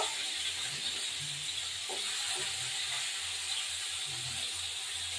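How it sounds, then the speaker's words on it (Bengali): Bori, small lentil dumplings, frying in hot oil with a steady close sizzle and hiss that holds evenly throughout, faint clinks and stirring underneath, no talking. "বড়ি ভাজবো একটু।"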